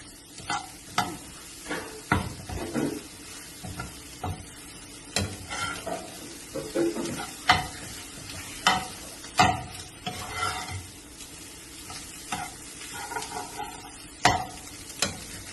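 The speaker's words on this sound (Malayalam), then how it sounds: "ഈ മുട്ടും ചെമ്മീനും കൂടി ഇങ്ങനെ വറുത്തെടുക്കുക." Shrimp and egg fry together in a pan, with a steady sizzle broken by repeated sharp scrapes and knocks of a spatula stirring them, close and fairly loud.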